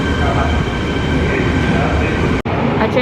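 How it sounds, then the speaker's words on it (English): A train pulls out of a station in Fukuoka, Japan, a loud, steady rolling rumble and rail hiss close by, with a brief sharp cutoff near the end as the sound continues. "A train just left."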